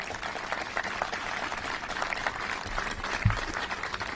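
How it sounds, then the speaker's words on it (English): An audience applauds during a Chicago mayoral address, a moderate, steady patter of clapping across the whole stretch, with one brief low thump partway through. "it's okay to applaud for that"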